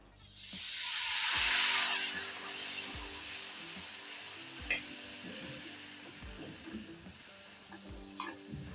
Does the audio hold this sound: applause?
no